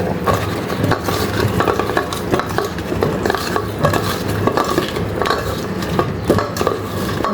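Mango pieces being mixed with spices in a bowl, giving steady close scraping, clinking and squelching stirring sounds throughout with no talking.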